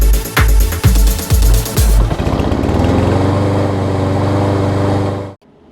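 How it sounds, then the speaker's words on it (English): A Troy-Bilt XP rear-drive self-propelled push mower, hard to pull with a broken 25mm blade adapter, sputters through several pull-start attempts, then catches and runs as a loud steady engine drone before cutting off abruptly. "Troy Bilt XP mower, push mower, rear drive, self-propel."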